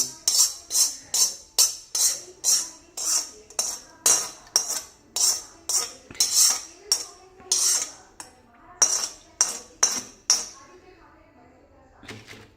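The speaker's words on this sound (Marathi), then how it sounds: "सर्व मसाला पण काढून याच्यात टाकायचा आहे. कढईमध्ये काही ठेवायचं नाही." Chilli pickle masala scraped out of a kadhai with a metal spoon, about two dozen sharp rhythmic metallic scrapes in quick succession, close and loud, slowing and stopping near the end.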